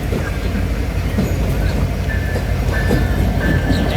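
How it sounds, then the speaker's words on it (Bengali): The Kapotaksha Express, an intercity train running from Khulna to Rajshahi, rumbles loudly and steadily close by as it pulls into a station, with a faint squeal of wheels. "অনেকটা অপেক্ষার পর আমাদের সেই সোনালী ট্রেনটি আমাদের মাঝে চলে আসলো।"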